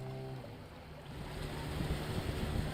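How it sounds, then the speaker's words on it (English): An outboard motor canoe on a river in the Darien Gap, heard as a steady low engine drone mixed with wind buffeting and water rush, moderately loud and continuous. "As the river opened up, a driver and his outboard canoe appeared."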